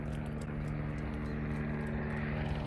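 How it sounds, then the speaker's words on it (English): A steady low rotor drone hums continuously overhead, even and unbroken, with no voices. "This helicopter keeps practicing a lot."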